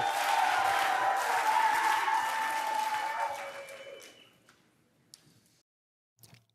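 Convention crowd at an NDP gathering claps and cheers after a party chant, a dense broadband wash of applause that holds for about three seconds, then tapers off and dies away, leaving a few isolated claps.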